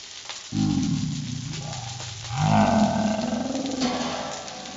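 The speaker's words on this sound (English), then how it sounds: "you're going to hear a great sizzle" A loud hiss and crackle of green broccoli hitting a hot pan, swelling suddenly and then sizzling steadily, with no talking over it.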